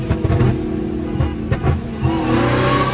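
Several cars accelerate hard from a 60 mph rolling start, with engines roaring and climbing steadily in pitch as they race down the highway, loud and continuous throughout.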